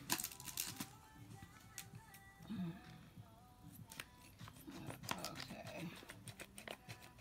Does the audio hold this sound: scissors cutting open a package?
yes